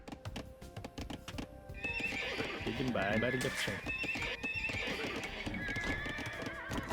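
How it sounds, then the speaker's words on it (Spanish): Horses neigh and hooves clip-clop in the Age of Empires II: Definitive Edition strategy game, playing as the Mongols, with short in-game unit voice acknowledgements in Mongolian and a commentator speaking over the game sounds throughout. "Caballos."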